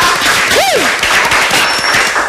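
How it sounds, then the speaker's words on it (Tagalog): Applause from a crowd at a local gathering in San Martin, dense steady clapping filling the whole stretch at moderate loudness, with a brief rising and falling whistle-like tone partway through. "Sige na, magpalakpakan na kayo."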